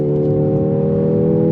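A 2024 Mercedes AMG GLA 35 accelerates hard off the line in Sport Plus, its engine note steady and loud with strong tonal harmonics, close and continuous with no talk.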